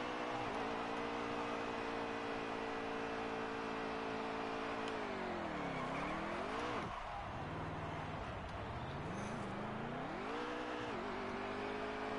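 Race car engines rev and wail in a truck racing video game, a steady loud drone with pitch sweeping down and up as the engines shift and accelerate, continuous throughout without talk.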